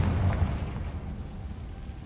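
A dense, loud explosion-like roar with a heavy low rumble and crackling burst fills the moment as the Confringo spell goes off in a video game, fading slightly over two seconds with no speech.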